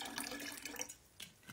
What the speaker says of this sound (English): Sorry, I'm just pouring some water.